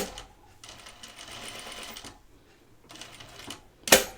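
Sewing machine stay stitching a caftan fabric, running in two bursts of steady mechanical whirring separated by a pause, followed by a sharp click or clunk at the end.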